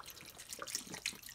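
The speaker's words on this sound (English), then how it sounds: "And then pour the rubbing alcohol" Rubbing alcohol poured from a container over dried starfish, a soft watery trickle and splash that is faint and close, with no talking over it.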